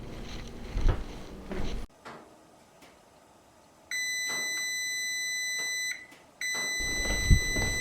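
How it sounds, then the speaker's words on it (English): A kitchen timer goes off while a marinated boneless leg of lamb roasts, sounding a steady, loud electronic beeping tone that holds for a couple of seconds, breaks briefly, then resumes, with some kitchen clatter before it. "so the timer's gone off"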